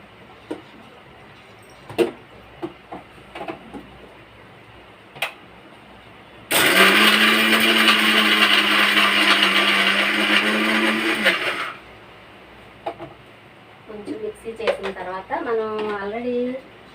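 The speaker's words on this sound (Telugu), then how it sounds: "వేసుకుని చక్కగా మిక్సీ చేసుకుందాం" A kitchen mixer grinder whirs loudly for about five seconds, blending chutney ingredients with salt, then stops. Clicks, handling sounds and brief speech come before and after.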